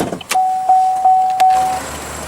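The driver's side power window of a 2015 Chevrolet Cruze with a 1.4-litre four-cylinder turbo runs its motor for about a second and a half, loud and close, with a steady whine and a few small clicks as it moves.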